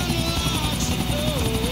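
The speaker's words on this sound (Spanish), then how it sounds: "Primera vez en el mismo juego que llevamos un helicóptero manejando" Helicopter flying in Grand Theft Auto 4, with a steady loud rotor and engine drone filling the whole stretch and a faint whine shifting in pitch over it.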